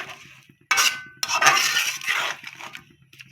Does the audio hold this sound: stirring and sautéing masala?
yes